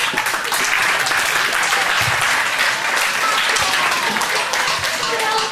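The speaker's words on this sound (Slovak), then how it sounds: "Tak, potlesk prosím." Loud, dense applause from a crowd at a live chess show rolls on steadily without a break, close and continuous, with faint voices mixed in.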